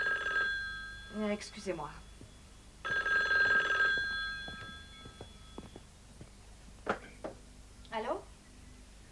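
Telephone bells ring in two sharp bursts indoors, a bright trilling clang, followed by short spoken remarks and light movement sounds in a quiet room.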